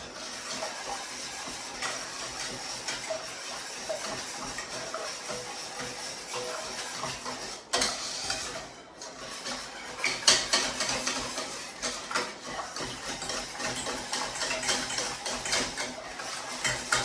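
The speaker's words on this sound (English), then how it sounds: "I'm going to whisk all of those ingredients together really well" A whisk mixes lemon curd ingredients in a bowl with continuous scraping and rapid clicking against the sides, a steady metallic rattle with a few louder knocks along the way.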